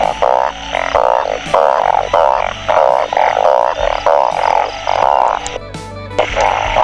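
Asian bullfrogs (oung) croak in a loud, dense chorus after the first rain of the 2022 season, with rapid pulsed calls repeating almost without pause and no voices.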